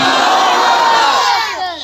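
A large crowd at a religious gathering roars the Takbeer chant in unison, a loud, sustained collective shout of many voices that holds steady and then trails off at the end.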